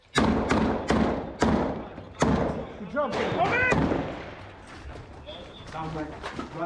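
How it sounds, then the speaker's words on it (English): Gunshots fired through a window frame during a combat firefight, several loud sharp cracks in quick succession early on, then later bursts under shouted voices and radio chatter. "He fires more shots through the window frame."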